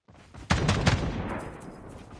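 Gunfire in the mobile shooter game Call of Duty Mobile: a tight cluster of three or four sharp, loud shots in quick succession, each followed by a ringing tail that slowly fades into the game's ambient background.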